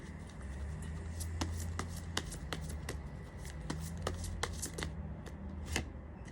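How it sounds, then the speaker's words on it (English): Tarot and oracle cards are shuffled by hand in a quiet room, a soft steady riffling with repeated crisp flicks of cards being pulled, faint and close. "Let me pull some shaman and healing cards here."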